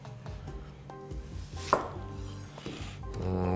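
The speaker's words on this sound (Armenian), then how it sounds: "Սոխը կտրատում ենք մանր։" A knife finely chops onion on a board in a home kitchen, a steady series of crisp, close strikes with no talking.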